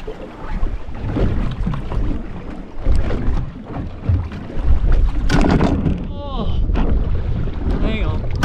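Strong wind buffeting a small fishing boat on open water, loud rumbling gusts and flutter against the microphone with water slapping and creaks, continuous throughout.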